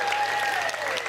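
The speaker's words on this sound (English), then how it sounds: "Can I get a big round of applause for the teams that have just played in that National Championship game?" Audience at a flag football national championship final applauding the two Queensland teams, a dense, steady clapping crowd filling the space with a faint tonal sound running through it.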